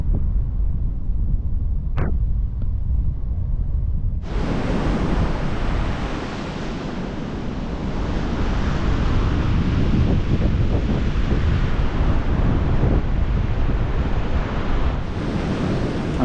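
Waves wash steadily onto the UK coastline, a loud, continuous surf roar with gusty wind buffeting the microphone throughout and no voices.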